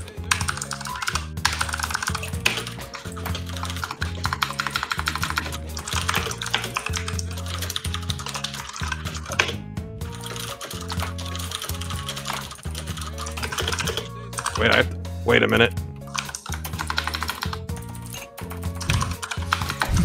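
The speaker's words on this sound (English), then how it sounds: "someone's fucking destroying their keyboard" Rapid, heavy typing on a computer keyboard clatters nonstop in dense bursts of keystrokes, loud and close, with background music and a brief spoken remark during an online party game session.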